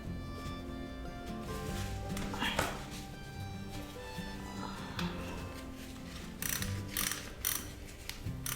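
A wrench works on the oil drain bolt of a Suzuki motorcycle, giving repeated close metallic clicks and ratcheting ticks over a steady low background hum.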